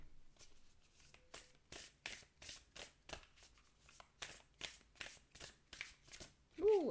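Oracle cards are shuffled in a long run of quick riffling bursts, a dozen or so crisp papery flurries repeating close and steady, with a brief voice at the very end.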